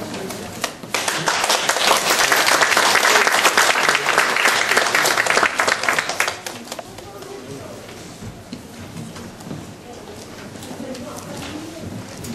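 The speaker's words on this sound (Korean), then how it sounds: "우리 노옥상 목사님 오실 때 큰 박수 부탁드립니다." Loud applause from a church gathering welcomes a pastor at a Shema family-worship school session, dense clapping rising quickly and holding strong for several seconds before thinning into lighter scattered claps and murmuring voices.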